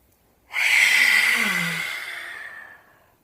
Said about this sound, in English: You'll rise up as you inhale through the nose and then exhale through the nose